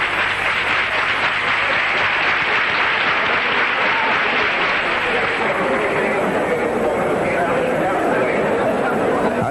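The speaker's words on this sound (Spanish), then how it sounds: "el público en pie dedica una tremenda ovación a Diarte" A stadium crowd at a 1981-82 Spanish first division football match between Betis and Barcelona gives a standing ovation, a dense, loud wash of applause and roaring that fills the whole stretch without a break.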